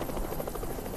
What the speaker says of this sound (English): And that's a helicopter